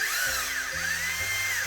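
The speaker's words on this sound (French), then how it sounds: "on va percer à la scie cloche" A 24 mm hole saw drills through the wall of a van during a window fitting, giving a steady, loud high-pitched whine with the motor note shifting in steps, close up and continuous.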